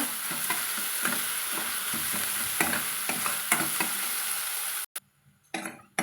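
Chopped tomatoes with salt and turmeric sautéing in a pan for a village-style green cowpea broth: a steady close sizzle with repeated scraping stirs, then a sudden near-silence near the end before a brief final stir.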